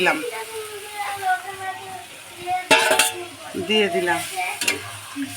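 Lote (Bombay duck) fish hits a pan of cooked-down garlic, onion and green chili masala, sizzling and frying steadily while a spoon stirs and scrapes against the pan, close by, as someone talks over it.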